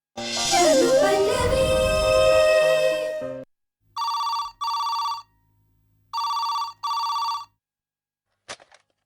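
Telephone ringing ahead of a call: a loud electronic ringtone melody, then two pairs of short, bright ring bursts with brief gaps between them, close and clear with no talk over them.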